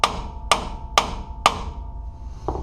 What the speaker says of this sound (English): I'll take a hammer and I'll hit it right here